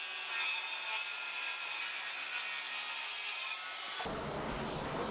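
Hand saw cutting a notch in a wooden ceiling joist in a shipping container build, a steady rasping stroke of blade through wood, close and continuous, then an abrupt shift to a duller, lower scraping near the end.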